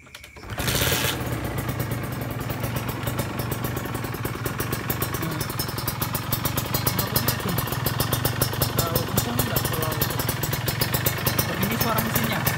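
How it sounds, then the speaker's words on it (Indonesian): A Kawasaki Ninja SS motorcycle engine fires up and settles into a steady, rapid, clattering idle through its exhaust, loud and close, with a voice talking briefly over it. "Ini kita nyalain ya biar dengar suara mesinnya sama knalpotnya."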